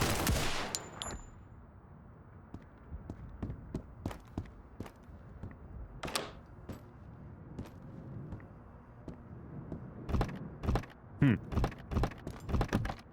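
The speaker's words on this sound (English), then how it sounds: "There's somebody else out there. Taking fire." Gunfire in the survival shooter Road to Vostok: scattered sharp shots crack out across the clip, one near the start and another around six seconds, then a denser burst of several quick reports toward the end over a quiet outdoor ambience.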